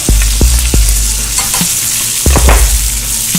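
Green beans and garlic sauté in a hot pan with melted fat, a loud steady sizzle broken by several sharp clanks of the pan or utensil as the food is stirred, with no talking.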